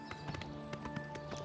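Horse hooves clip-clop at a steady riding gait in the video game Oblivion Remastered, the rhythmic taps fairly close and moderately loud over a faint background hum.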